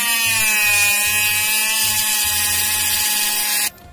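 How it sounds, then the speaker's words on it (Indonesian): An electric drill bores into glued, stacked PVC pipe pieces for a miniature diesel exhaust, giving a steady close whine with a low, uneven chugging underneath, then it cuts off abruptly near the end. "Pakai bor ya supaya lebih enak"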